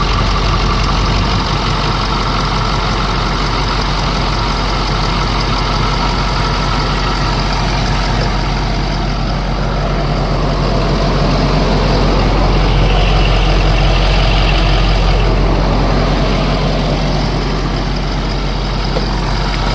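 A Ford 6.7 Powerstroke diesel runs loud and close just after its first start in years, a deep steady idle with a slight throttle swell midway.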